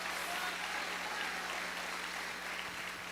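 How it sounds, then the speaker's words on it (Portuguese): A church congregation claps together, a steady sustained wash of applause that stays fairly even and moderately distant for about three seconds, with a faint low hum beneath. "Dê um aplauso a Jesus."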